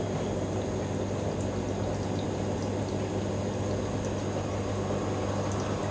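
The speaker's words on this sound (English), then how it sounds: "There's an Inspirations top loader on the dilution rinse now." Inspirations top-loader washing machine on a dilution rinse, water rushing steadily into the drum as a constant, moderately quiet hiss with a low hum beneath it, uninterrupted and without voices.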